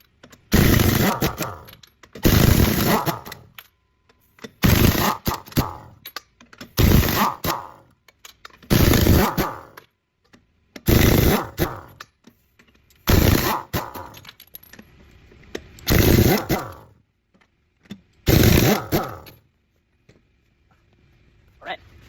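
An air impact wrench removes lug nuts from an aluminum wheel in about ten separate loud, rattling hammering bursts, each lasting a second or two, with quiet gaps between them.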